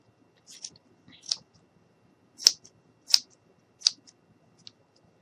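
Scissors trim yarn on a small mason jar dog craft: about six short crisp snips, close and fairly quiet, spaced unevenly over near silence.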